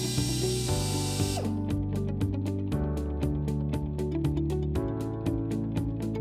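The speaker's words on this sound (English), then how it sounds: "drill a small pilot hole." A power drill fitted with a 1/8-inch bit bores a small pilot hole for mounting the hinge bracket of a Cardinal Gates SS-30 stairway safety gate, giving a loud steady motor whine with a rapid ratcheting pulse.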